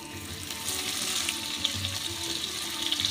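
Whole cumin seeds, bay leaves and slit green chilies, with onion to follow, sizzle steadily in hot oil in a pan, a close, continuous hiss that holds an even level throughout.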